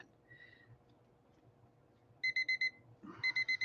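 A timer alarm goes off in a quiet room during a late-night mixed media art session, sounding a faint brief beep, then two clear bursts of four rapid, evenly spaced electronic beeps.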